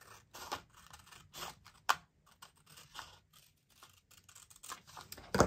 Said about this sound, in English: I'm going to take my regular paper scissors, and I'm cutting on that cutting line